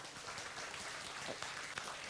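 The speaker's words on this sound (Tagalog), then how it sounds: "pumalakpak ng malakas" A church congregation claps loudly during a worship service, a dense, steady wash of applause filling the room for a couple of seconds.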